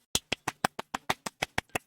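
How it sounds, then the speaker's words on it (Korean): A single person claps eleven times, a quick, even run of crisp, close claps in a quiet room. "드리프트 홀더분들 일단은 박수 한 번씩 치고 가겠습니다"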